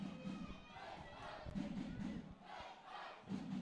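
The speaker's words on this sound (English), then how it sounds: "Another decent crowd here tonight, Shane, at Finn Park." Football match crowd at Finn Park on a League of Ireland evening, Finn Harps against Longford Town: a steady murmur of many spectators with swelling shouts and cheers rising in waves, heard from the stands.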